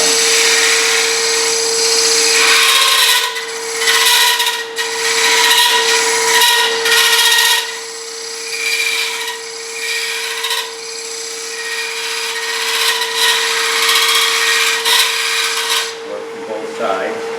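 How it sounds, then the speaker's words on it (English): A wood carving gouge shaving small cuts into a wooden workpiece, heard as continuous rasping, scraping strokes in bursts, close and fairly loud, with a steady tonal hum running underneath throughout. "And then I start cutting back in. Do another gouge, small one."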